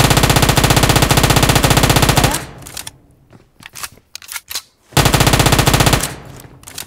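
Rapid automatic gunfire in PUBG Mobile, a loud close burst lasting over two seconds, then scattered single shots and echoes, then another sustained loud burst.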